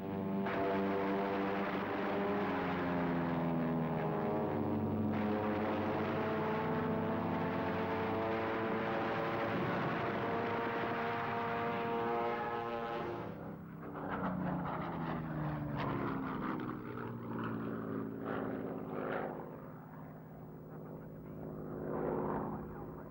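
A World War II Spitfire's piston engine drones overhead, a loud steady multi-toned roar that shifts pitch as the fighter passes and recedes, with no voices.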